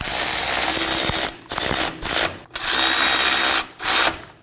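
A power tool runs in loud bursts, snugging the caliper bracket bolts on a 2017-2024 Nissan Armada: several whirring drill spins with ratcheting, each stopping briefly before starting again, close up with no talk.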